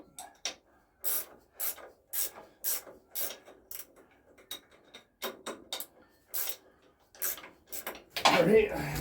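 A ratchet wrench snugs up bolts on a Gravely snow thrower, giving repeated short bursts of clicking strokes at close range, with a louder mechanical rush near the end.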